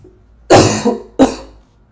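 Two sharp, loud coughs from one person close by, about two-thirds of a second apart, each fading quickly into quiet.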